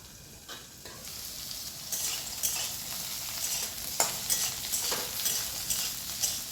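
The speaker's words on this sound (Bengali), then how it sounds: "দেখুন পটলটা কত সুন্দর ভাজা হচ্ছে" Steady sizzling of pointed gourd frying in a pan, with a spatula scraping and stirring now and then, no voices.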